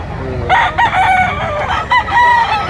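A White Kelso rooster crows loudly and close by in two or three drawn-out calls, with some clucking and faint background noise between them.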